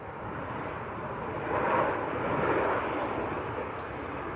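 A Ryanair Boeing 737 MAX from Naples roars in to land at Manchester Airport, a broad, steady jet rumble that swells to its loudest midway and stays strong throughout, with no voices.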